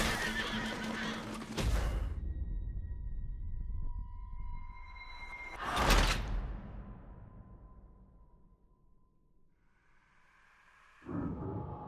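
A horse in Red Dead Redemption 2 lets out loud whinnies and snorts in separated bursts with quiet gaps between them, near and clear, with no talking.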